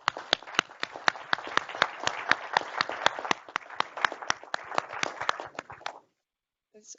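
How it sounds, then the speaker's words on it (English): Audience applause for a team standing in a conference hall: dense, steady clapping with sharp individual claps on top, lasting about six seconds before stopping abruptly into near silence. "let's give them a quick round of applause"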